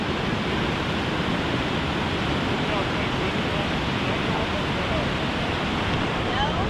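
Broad, steady rushing of a shallow river about a foot and a half deep, loud and continuous throughout with no pauses, with a little wind buffeting the microphone.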